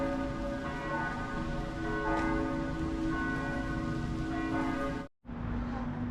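Several church bells in Schladming, a small town in the Austrian Alps, ringing together at noon, a dense, sustained overlapping peal heard from a short distance, continuing steadily before a brief cut and resuming.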